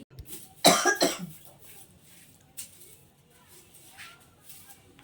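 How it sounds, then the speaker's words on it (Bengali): One loud, close cough from dust while sweeping bursts out near the start, followed by a softer throat sound and quiet shuffling. "ধুলোগুলো ঢুকছে তো কাশি আছে"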